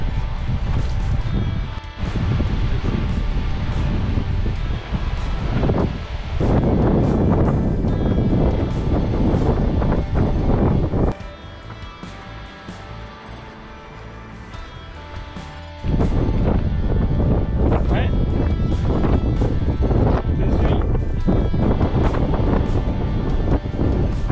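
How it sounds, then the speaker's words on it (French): Strong, steady wind of about 40 km/h buffets the microphone on a coastal hiking trail in Brittany beside blue sea, a loud continuous roar that dips briefly to a quieter lull before surging back. "Rafraîchit avec le vent, ça fait du bien."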